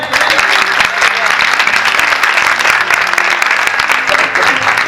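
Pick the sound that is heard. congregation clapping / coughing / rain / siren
congregation clapping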